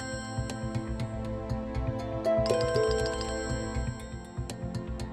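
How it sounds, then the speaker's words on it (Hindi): A telephone ringtone rings out loud and close, a bright repeating electronic melody with no voices over it. "ये लो, फिर से फोन बज गया।"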